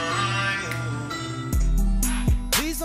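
A song plays loudly up close, with a sustained tonal musical bed and sharp bursts and pitch sweeps in its second half, no separate talk over it.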